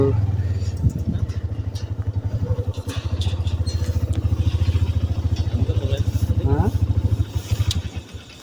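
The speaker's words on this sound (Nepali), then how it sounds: "अब डबल डबल बाइक आइरहेछ यो सानो पुलमा" Motorcycle with two riders crossing a small bridge over a river, its engine putting steadily and close by, with people talking over it.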